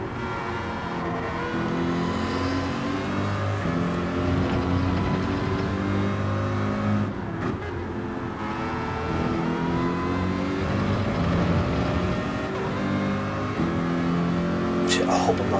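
A Mazda race car in Gran Turismo 7 racing at Monza: a harsh, loud engine drone with shifting revs and gear changes runs throughout, while a voice talks over it.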